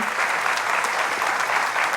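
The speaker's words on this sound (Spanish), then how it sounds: "Nosotros damos un aplauso al Señor, ¿verdad?" A church congregation applauding the Lord, a continuous even patter of many hands clapping throughout, moderately loud with no voices standing out.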